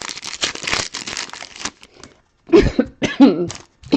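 A few muffled coughs into a shoulder, caught in short bursts right after a stretch of crinkly rustling from a pack of trading cards being opened.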